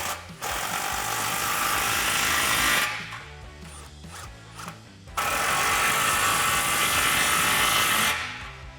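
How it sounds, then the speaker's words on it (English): A 15mm socket on a power tool tightens exhaust clamps on a cat-back exhaust for a 2016-2023 Camaro SS, giving two loud, close, sustained whirring bursts of a few seconds each with a short gap of clicks between them. "we'll just slide our clamps into position and tighten those down with that same 15mm socket"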